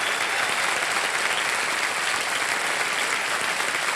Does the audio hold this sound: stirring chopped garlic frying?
no